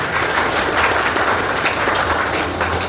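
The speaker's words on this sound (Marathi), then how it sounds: "आजच्या ह्या वक्त्याचं आपण टाळ्या वाजून स्वागत केलं पाहिजे" An audience at a memorial lecture bursts into loud, sustained applause to welcome the speaker, dense clapping holding steady for the whole stretch.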